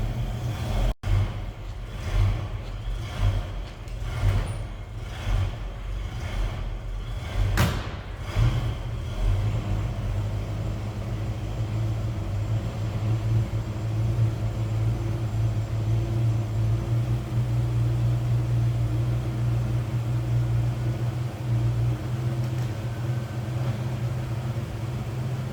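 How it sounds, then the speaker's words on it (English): A 1967 Ford Mustang convertible with a 289 V8 rumbles steadily as it drives down the road, a low engine drone with a few thumps and shifts early on before settling into an even cruise, no talk. "Jason's going to take this for a drive,"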